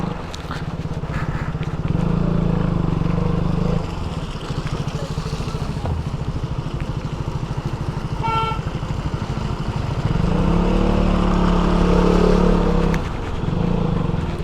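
A motorcycle rides a muddy, landslide-prone mountain road toward Gangotri, its engine droning close with rises and falls in revs and a rough, pulsing low rumble, with a rider speaking over it at times.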